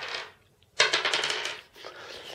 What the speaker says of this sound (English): So it rolls 1 defense dice.